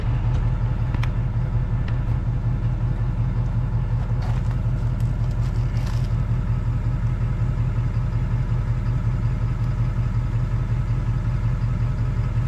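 A pickup truck's engine idles while it charges a trailer's breakaway battery, giving a steady, even low rumble that runs unbroken throughout with no talking.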